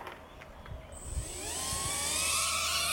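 A faint whir swells into a loud, high-pitched buzzing whine as a small pocket-size Tec Bean drone spins up and lifts off in light wind, preceded by a few light clicks.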